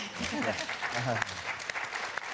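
A panel audience at an education event for teachers gives soft, sustained clapping at moderate distance, mixed with talk and a few sharper individual claps.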